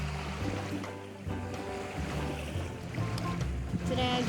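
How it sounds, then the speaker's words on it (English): Ocean waves wash onto a beach under steady wind, giving a dense, continuous rushing roar with microphone buffeting, loud and close throughout. "so nice to be at the beach."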